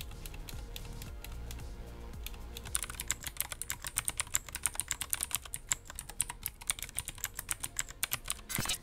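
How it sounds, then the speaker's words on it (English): Rapid, steady typing on a mechanical keyboard with clicky switches; sharp close-up clicks that start after a few seconds of quieter, denser clatter and run alone with no talk. "Their sound is what most people would recognize as the mechanical keyboard sound."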